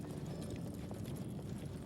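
Harness horse hooves clip-clop steadily on a Georgia track, a brisk continuous clatter of hoofbeats over low background rumble, with no voices.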